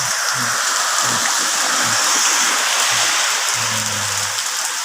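Heavy rain falls steadily over a garden campsite on Koh Samui, a dense close hiss of drops, with faint low tones pulsing underneath.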